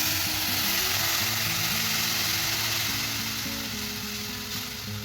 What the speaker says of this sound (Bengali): এই যে সুজিটা প্রায় হয়ে গেছে ভাজা